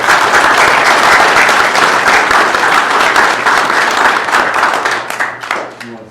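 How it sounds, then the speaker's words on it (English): A crowd claps in loud sustained applause for several seconds, then the clapping thins out and fades toward the end. "Give these folks a big round of applause."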